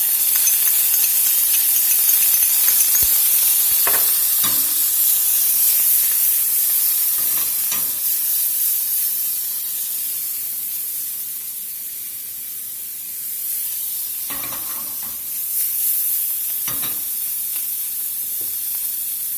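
Salmon fillets sear in butter in a hot pan, giving a loud, steady sizzle and hiss broken by occasional crackles and pops, with no voices over it.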